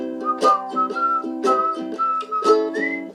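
A person whistles a lilting tune in steady, sustained notes, with a plucked chordal accompaniment pulsing underneath throughout.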